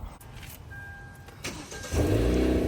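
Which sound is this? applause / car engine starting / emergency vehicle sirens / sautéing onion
car engine starting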